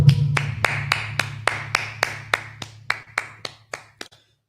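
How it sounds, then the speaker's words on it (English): Hand claps during a religious Sabbath service, about a dozen sharp, evenly spaced claps in unison ringing out in a reverberant hall, gradually fading until they stop. "Let's clap it up"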